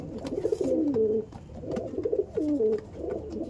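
Male Madrasi pigeons coo in repeated rolling phrases, about three throaty bursts close to the microphone with short pauses between them, and no talking.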